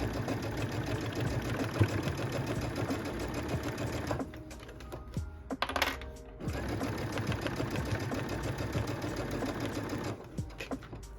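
Sewing machine stitching a fabric glasses case under the presser foot, a steady fast motor hum with stitch rattle that pauses briefly near the middle and resumes, close and fairly loud.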